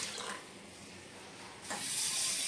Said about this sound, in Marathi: आणि आता त्याच्यामध्ये आपण पाणी ओतूया